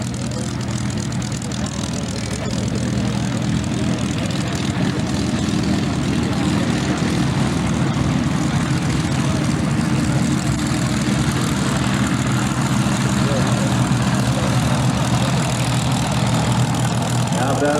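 A P-51 Mustang propeller aircraft runs its engine at an air show, a loud steady low drone with a throbbing hum that continues throughout, with an announcer talking over it.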